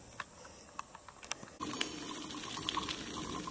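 Steady rushing runoff water flowing quickly along the edge of a tunnel nearby, starting abruptly and continuing as a broad, even wash of sound with faint trickles.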